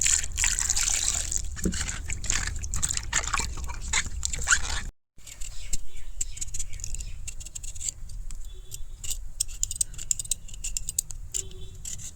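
Raw mango being washed in water by hand, with continuous splashing and trickling plus small knocks and clicks, close up, briefly cutting out midway before resuming.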